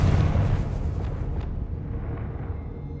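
Confringo fire blast spell exploding in Hogwarts Legacy, a loud rumbling boom at the start that fades into a low decaying roar over a few seconds.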